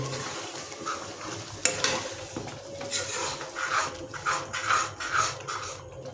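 Soybean masala curry being stirred in a pan with a ladle, a steady rhythm of scraping and clinking strokes against the metal over a soft sizzle, close and moderately loud, no talking.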